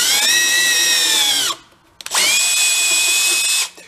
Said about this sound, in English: I like using the drill, and then the drill has drag on it.